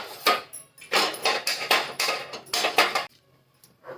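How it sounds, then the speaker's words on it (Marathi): A tawa griddle pan is set down on a gas stove while preparing besan chilla. There are several sharp metallic clanks and rattles over about three seconds, and then it goes nearly quiet. "गॅसवरती तवा ठेवला."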